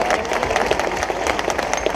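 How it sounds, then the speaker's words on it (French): Audience applause for the mayor at an outdoor nature festival concert, a steady dense patter of many hands close by, with no voices over it. "Allez, on applaudit monsieur le maire aussi."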